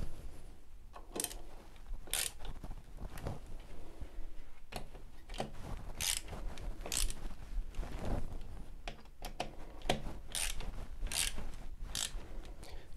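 Fixings on an IKEA floating shelf bracket being tightened, giving a run of sharp mechanical ratcheting clicks and short bursts spread through the clip, close by, with no talking.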